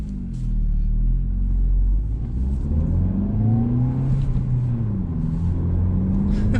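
A 2021 Hyundai Elantra N-Line's engine revs up with rising pitch sweeps, cutting power briefly between shifts, heard loud and close from inside the car under a steady low rumble.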